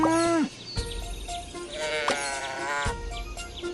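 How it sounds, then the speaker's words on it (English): Cartoon sheep bleat several times in the Thomas and Friends Magic Track video game, wavering calls over a busy musical game soundtrack. "Sheep have wandered onto the tracks!"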